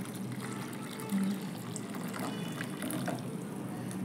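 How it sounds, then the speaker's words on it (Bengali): Hot water is poured into a mango jelly mixture, giving a faint, steady liquid trickle and splash that runs continuously at low volume. "এবার যে গরম জলটা আমি নিয়েছিলাম ওটাকে এবার ঢেলে দেবো এর মধ্যে"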